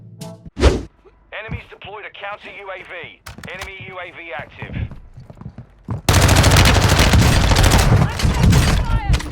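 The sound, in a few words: gunfire from an F-Tech Ripper 56 rifle in Warzone 2.0 video game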